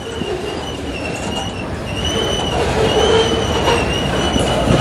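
CSX freight train with AC44 and ES44 locomotives slowing to a stop at Goldsboro, North Carolina, wheels squealing steadily over a continuous rumble of rolling railcars, close and fairly loud with no talking.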